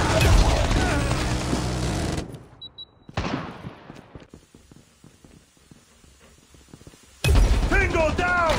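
Automated sentry gun fire in a Call of Duty match, rapid bursts of shots mixed with other game gunfire and sound effects, with busy loud stretches at the start and end and a sparser stretch of firing in between.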